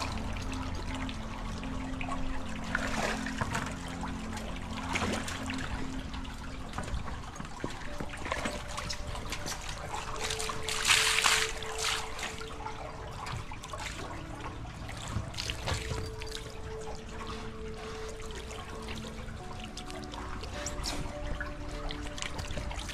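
Honey badger in a pool, with continuous water sloshing, trickling and splashing close by, a louder burst of splashing midway, and no talking.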